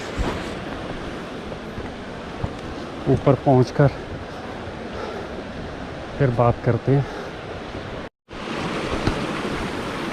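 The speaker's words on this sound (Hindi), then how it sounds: "अभी तो पानी चिपक कर आ रहा है, बरसात में काफ़ी हैवी ड्यूटी गिरता है यहाँ से पानी" Spring water seeps and trickles down rocks beside a steep mountain road in Uttarakhand, a constant rushing hiss; someone speaks briefly twice over it, and the sound cuts out for a moment near the end.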